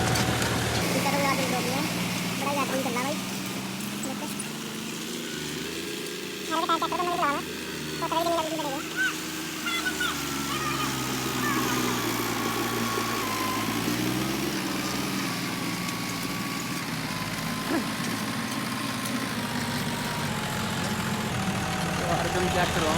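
John Deere 5210 tractor pulling an 18-disc harrow in a field, its engine running steadily close by with a loud throb that rises and falls as the load changes. Voices talk over the engine at times.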